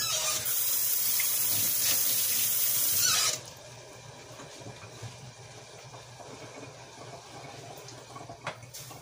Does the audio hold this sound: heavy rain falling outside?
no